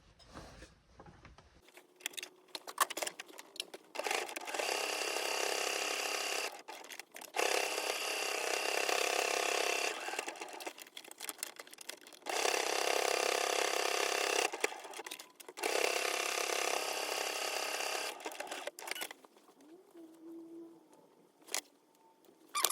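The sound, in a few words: sewing machine top stitching a sewn wallet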